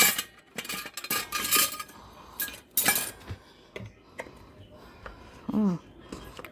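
A spoon clinks against dishes with scattered light chinks and taps at a home dinner table, several separate strikes spread through the clip among quiet clatter and brief voices.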